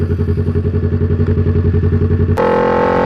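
A Kawasaki Z400 motorcycle engine idles loud and close in a fast, even pulsing rhythm, then abruptly shifts to a steadier, smoother drone with no talking.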